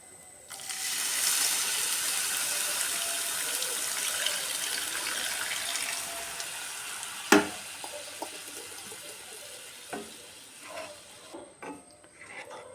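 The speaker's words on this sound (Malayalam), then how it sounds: "നമുക്കിതിലേക്ക് ആവശ്യത്തിന് വെള്ളം ഒഴിച്ചു കൊടുക്കാം" Water pours into a hot pan of sizzling egg curry with a steady hiss and sizzle, followed by a few clinks and scrapes near the end.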